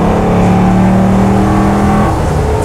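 A Velocity F-250 Highboy truck with a Coyote 5-liter engine accelerating hard, a loud, close, steady engine roar with strong low rumble that keeps climbing in pitch.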